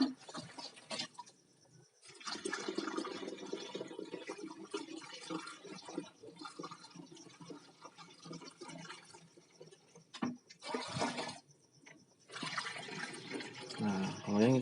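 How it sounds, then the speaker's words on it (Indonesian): Liquid in a pot is stirred in a kitchen, giving a continuous sloshing, swirling wash with brief pauses, fairly close and soft, with occasional talk nearby. "Kita aduk lagi."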